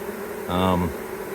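A honey bee swarm buzzes in one brief burst, a dense, steady drone that swells up loud for about half a second and then drops back, with faint background noise on either side.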